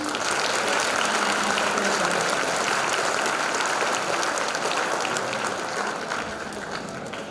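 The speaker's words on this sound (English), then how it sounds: "One more round of applause." Sixth-grade orchestra players get a round of applause from a school concert audience, a steady, full clapping that holds for several seconds before gradually thinning and fading.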